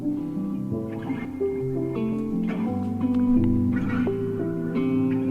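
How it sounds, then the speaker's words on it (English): A ROLI Airwave synthesizer keyboard plays its Cicadia preset, a sequence of sustained, harmonically rich tones stepping between pitches at a moderate pace, clear and upfront with no voices. "I like this keyboard sound already"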